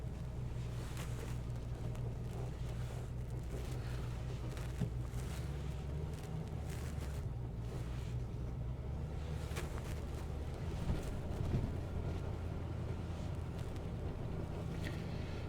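A 1974 Mercury Marquis Brougham with a 460 engine drives along, its steady low engine rumble and road noise running evenly throughout with wind buffeting and no talking.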